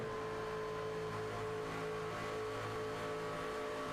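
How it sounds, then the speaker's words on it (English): A race truck engine on an oval track drones steadily at a distance, its pitch easing slightly as the driver lifts off the throttle through a turn, with no voices. "You can hear him get out of the throttle a little bit in turn two."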